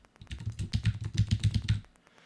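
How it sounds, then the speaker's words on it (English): A loud computer keyboard being typed on: a quick burst of about a dozen heavy, thumping keystrokes in rapid rhythm, close and clear, then silence. "What's the thumping noise? Oh, that's the keyboard. It's kind of loud."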